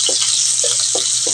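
Garlic fries in a pan with a loud, continuous bright sizzle, broken by a few short soft knocks or stirs, close up.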